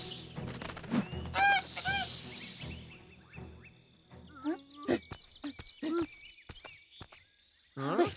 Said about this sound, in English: Those ducks saved us.